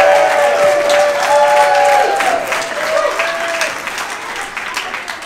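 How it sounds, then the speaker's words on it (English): A church congregation applauds baptisms at an Easter Sunday service, dense, loud clapping throughout, with a voice briefly audible over it before the applause thins slightly toward the end. "we can give a round of applause for that already."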